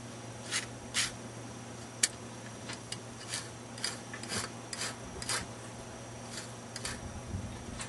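A rasp filing a show goat's hoof flat: faint, repeated scraping strokes at an irregular rhythm over a steady background hum.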